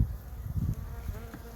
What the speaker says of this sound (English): they've got a full box of bees up here